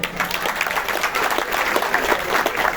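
A crowd of people at a gathering in Turkey applauds sponsors with dense, steady clapping that holds at an even, fairly loud level from start to finish.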